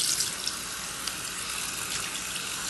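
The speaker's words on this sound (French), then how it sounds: "Je rince bien." Water streams steadily from a shower or tap while shampoo is rinsed out of curly hair, a continuous close hiss of flowing water with no speech.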